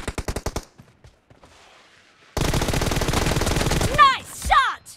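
Gunfire in a shooter video game: a quick burst of single shots, a pause, then a long loud continuous automatic stream ending in a couple of whooshing effects, with no talk.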